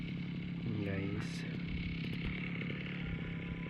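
A grass cutter runs on a farm plot with a steady, droning engine hum throughout, close and continuous, with a brief rising whine near the start.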